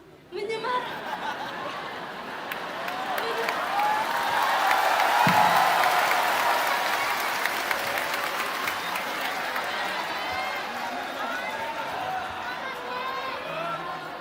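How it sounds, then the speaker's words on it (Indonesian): Audience applause at a school question session in Yogyakarta, a broad sustained wave of clapping that swells and holds, mixed with crowd murmur, light laughter and voices talking over it. "Tepuk tangan dulu dong."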